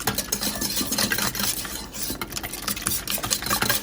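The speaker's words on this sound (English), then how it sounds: "So let's whisk this together." A hand whisk beats sour cream and chili powder together in a bowl for a spinach breakfast bake, giving quick, steady scraping and clinking strokes up close with no talk.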